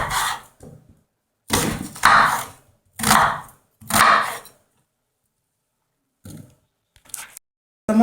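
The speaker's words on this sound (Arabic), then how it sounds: "لو حابين نقطعها تقطعوها شرايح رفيعة" A knife slices a red onion into thin pieces on a cutting board, giving several distinct crisp cutting strokes in short bursts, close and fairly loud, separated by silent pauses with a couple of quieter taps near the end.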